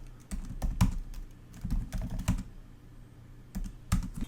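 Computer keyboard typing in short bursts of clicky keystrokes, close and fairly quiet, with brief pauses between runs of keys and no talking.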